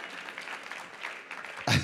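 Congregation at a Sunday church service clapping together in praise, a steady wash of many hands that stays fairly even, with a louder, closer burst of claps near the end.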